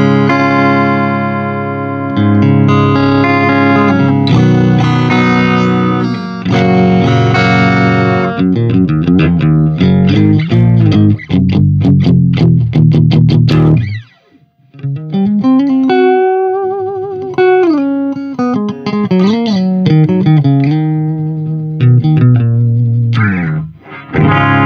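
Electric guitar played through the clean channel of a Randall RH100 head into a cab loaded with Celestion 7080 speakers, loud and upfront: ringing sustained chords and single-note lines with effects-laden shimmer, a brief near-silent pause midway, then bending melodic notes.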